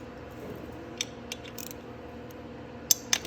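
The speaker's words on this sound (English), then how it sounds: "there's an 8 mil bolt down here at the bottom I forgot to take off" A socket wrench works an 8 mm bolt on a Venom X22GT 250cc automatic motorcycle, giving a few faint metallic ratcheting clicks and taps over a low background hum, close but quiet, with no voices.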